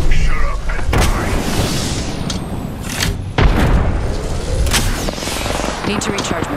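Gunfire in the Apex Legends battle royale game, with heavy booming shots and rapid bursts cracking over a constant loud roar of combat, close and intense throughout.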